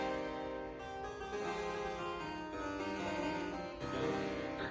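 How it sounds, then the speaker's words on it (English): Bright, buzzy plucked chords and runs come from the top manual of a Dowd double-manual harpsichord in French style, sounding the same 8-foot strings. It plays steadily and close up, with no talking. "If I play the top manual, it sounds like this."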